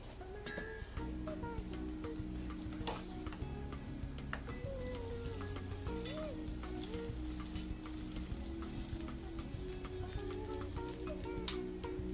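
Corn sizzling and crackling in a hot, drying pan, a steady frying hiss with scattered ticks and pops, close and continuous, with a low background hum.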